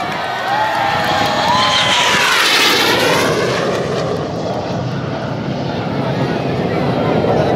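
A propeller airplane drones loudly overhead at an Indonesian Air Force flypast for National Aerospace Day, its engine pitch sweeping as it passes, with crowd noise and voices in the background.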